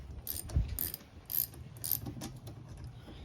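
A bolt on a Ryobi articulating hedge trimmer is tightened with a ratcheting tool, giving a quiet series of close, quick mechanical clicks with no voices.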